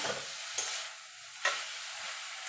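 Bottle gourd leaf stalks cooking with poppy seed paste, slit green chillies and a pinch of sugar, a quiet sizzle in the pan with two distinct scraping stirs of a spatula.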